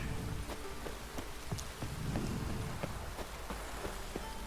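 Steady rain falls in the open-world game The Witcher 3, a continuous dense patter across the whole stretch with scattered sharper drops and a low rumble beneath, no talking.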